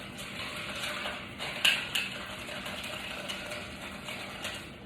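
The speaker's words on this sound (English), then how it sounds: "we've got some ice in there. I'm going to stir this up" Ice is stirred in a cocktail: a faint, steady swirl of cubes with light clinks against the glass and a couple of sharper taps, quiet and close. No one talks.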